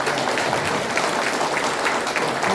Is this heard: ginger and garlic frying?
no